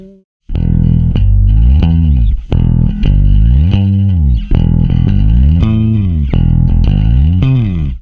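A distorted, effects-laden bass guitar from a rock song plays loud repeated slides across chord tones of E, each note sliding in pitch in a steady rhythmic pattern with no voices.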